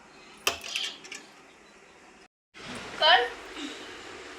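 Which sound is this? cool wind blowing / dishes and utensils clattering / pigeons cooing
dishes and utensils clattering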